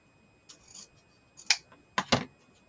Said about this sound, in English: Okay, I'm going to cut it.